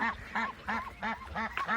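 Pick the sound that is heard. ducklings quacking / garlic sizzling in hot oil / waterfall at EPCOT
ducklings quacking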